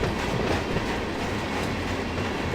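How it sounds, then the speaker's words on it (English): A freight train in the Run 8 train simulator game pulls forward on the Bakersfield subdivision, a steady rolling rumble with rhythmic clickety-clack of wheels on rails, loud and continuous, with no talking. "the train pulls forward."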